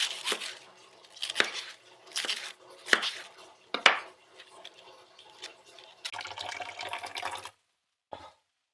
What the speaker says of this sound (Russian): Это мы уже капусту режем на борщ.